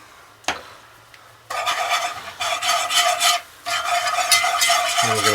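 A whisk scraping briskly through melted butter and 2 tablespoons of flour in a pan, starting after a brief tap and continuing as steady rasping strokes with a short pause midway, close and fairly loud.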